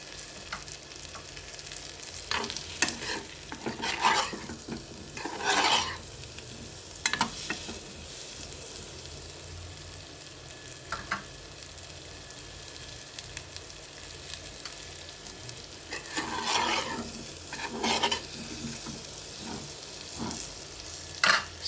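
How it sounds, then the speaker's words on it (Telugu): Sweet potato pieces fry in ghee for a Telugu sweet, with a soft steady sizzle beneath repeated scraping stirs that come in bursts, some close and sharper, others lighter, with quiet gaps between them. "ముక్కలన్నీ నెయ్యిలో కొంచెం వేగనిద్దామండి."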